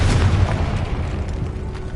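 In Hogwarts Legacy, the Confringo explosion spell bursts with a heavy, close boom at the start, followed by a rumbling tail that fades over about two seconds.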